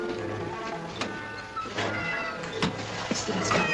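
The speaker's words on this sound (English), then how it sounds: "Leutnant Meyer, fangen Sie mir doch mal die Katze ein" A cat meows several times in close succession, mid-loud, over a steady background hum in a scene from a wartime television drama.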